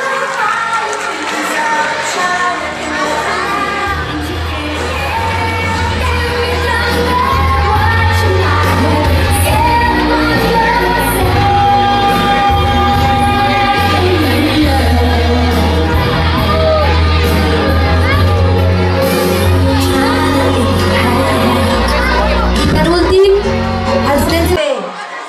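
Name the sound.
children's class applauding and cheering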